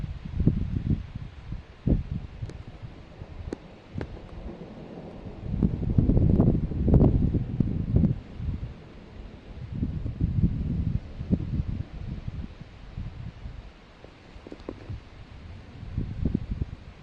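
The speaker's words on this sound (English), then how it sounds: "very windy out here, shaking the camera all to pieces" Strong gusts of wind buffet a handheld camera outdoors during a July thunderstorm, producing loud, uneven low rumbling bursts that swell and fade alone, with no talking.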